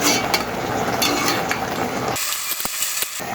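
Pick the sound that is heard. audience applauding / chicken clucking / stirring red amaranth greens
stirring red amaranth greens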